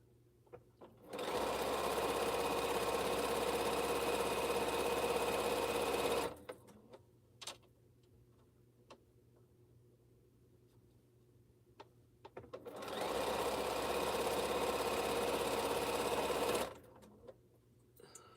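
A sewing machine stitches a T-shirt quilt in two loud, steady bursts of rapid whirring, each lasting several seconds and separated by a quiet pause filled with small clicks and handling sounds.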